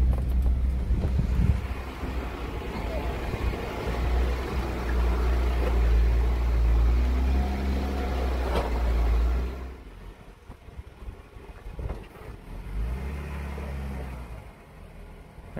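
An off-road vehicle climbing wet slick rock at Gold Bar Rim near Moab, Utah, engine rumbling and labouring under heavy wind buffeting on the microphone, then easing to a quieter idle with low revs afterwards.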